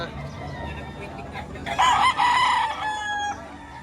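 Roosters at a home fowl yard in Batangas give a loud crow near the middle, rising above a steady yard ambience of clucking and background noise.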